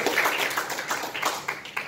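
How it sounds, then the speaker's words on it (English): A church congregation claps along in a steady, rhythmic run of sharp, bright hand claps during a Sunday evening service. "I'll give the Lord a hand clap tonight, church"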